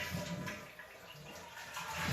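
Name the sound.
toilet being flushed to empty the tank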